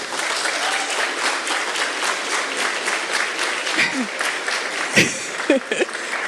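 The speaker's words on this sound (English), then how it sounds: "give them a clap" An audience at a medical sciences pledge ceremony applauds their family members: dense, steady clapping fills the hall, joined late by a few brief voices and a short shout.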